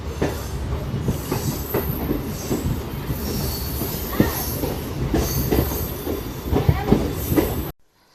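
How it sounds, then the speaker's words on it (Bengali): A train from Naihati toward Bandel runs on the rails, with loud rumbling, rhythmic wheel clatter and occasional squeals from the carriage, steady and close throughout before cutting off at the end. "তো বন্ধুরা এখন তো নৈহাটি থেকে ট্রেন ধরে নিয়েছি ব্যান্ডেল যাওয়ার উদ্দেশ্যে"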